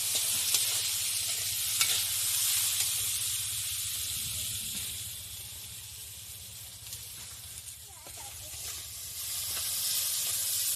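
Vegetables salted and stirred in a frying pan for vegetable semai, with a continuous hissing sizzle and occasional spatula scrapes close by.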